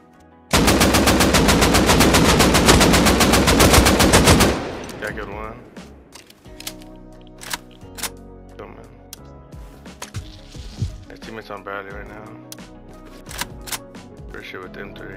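Rapid automatic gunfire in Rust on console, a dense burst of fast repeating shots lasting about four seconds, then scattered clicks, clatter and handling noises, with people talking in the background.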